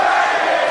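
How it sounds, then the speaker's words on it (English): A live wrestling audience at an independent show chants in unison toward a wrestler, a loud, dense wall of massed voices that is steady and sustained throughout, with no single voice standing out. "The crowd chants back at him that he's a baguette?"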